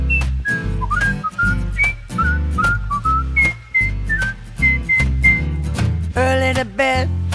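A person whistles a bright, cheerful tune, with clear melodic notes over a bouncy musical accompaniment, and a busier run of higher whistled notes near the end.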